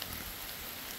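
Steady rain falls outdoors at a backwoods Pennsylvania ranch during a hog hunt, a continuous soft hiss of drops on surfaces, fairly faint and even, with no voices over it.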